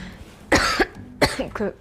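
Two or three harsh coughs close by, one sharp burst followed by a pair of shorter rasping coughs.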